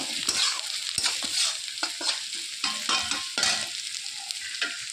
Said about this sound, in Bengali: মশলাটার মধ্যে হাফ চামচ হলুদ আর হাফ চামচ লবণ দিয়ে দিয়েছি, দিয়ে আরও একটু নেড়ে চেড়ে নেব।